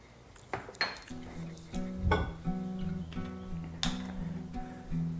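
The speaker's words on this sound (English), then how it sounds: "Make sure to get every last bit of sauce out of the pan." A utensil scrapes and clinks against a pan while sauce is cleaned out, with several sharp metallic taps and scrapes spread unevenly at a low volume.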